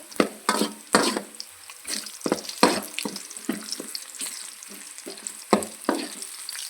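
A spoon stirs turmeric powder into food frying in a pan, giving repeated scraping strokes over a steady sizzle, close and fairly loud, with no voices.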